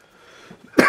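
A single short cough at close range, abrupt and loud after a quiet moment.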